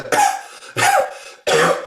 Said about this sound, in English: while your body is coughing, it wants to expel something